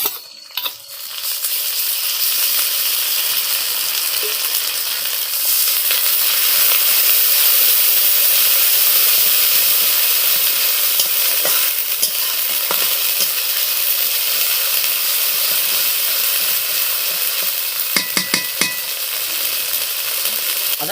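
Tomatoes frying in a pan give a steady, close sizzling hiss with occasional stirring scrapes and light clinks, continuous throughout with no talking.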